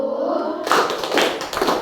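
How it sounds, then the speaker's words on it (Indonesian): A class of Indonesian schoolchildren performing a rhythmic concentration clapping chant, several sharp clustered claps in a short burst after a brief lead-in, close and fairly loud. "Tepuk konsentrasi."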